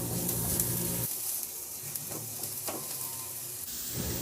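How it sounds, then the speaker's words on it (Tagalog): Garlic sautés in a pan that was just used to cook meatballs, giving a loud hiss that eases after a second into a softer sizzle with light stirring scrapes. "igisa ko na rin yung bawang"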